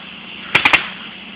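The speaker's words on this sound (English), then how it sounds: "Cover fire, Steve." Paintball markers firing cover fire at an outdoor paintball game: three quick, sharp pops in close succession, near and loud, then a low ambient hiss.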